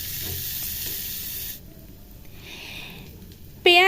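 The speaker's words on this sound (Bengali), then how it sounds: "পেঁয়াজটা একটু হালকা ব্রাউন করে ভেজে নেব আমি।" Onion fries to light brown in hot oil in a pan with a continuous close, bright sizzle that drops to a quieter hiss partway through, then a sudden sharp burst at the very end.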